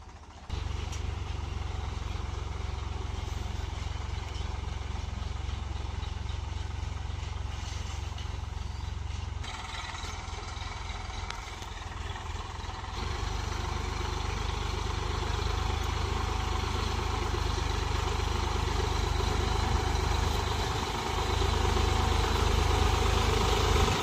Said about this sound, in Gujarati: આપણે તો ટ્રેક્ટરમાં બેસી જઈએ.